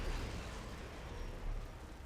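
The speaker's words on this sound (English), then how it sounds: "Devastating shot. Big ass explosion." Torpedo-struck ship exploding in the Silent Hunter 5 submarine game, heard as a sustained low, rumbling roar with steady loud noise throughout, no distinct separate blasts.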